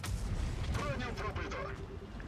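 A heavy tank cannon blast booms at the start in World of Tanks Blitz, followed by rumbling and echoing battle noise, with a voice briefly calling out over it.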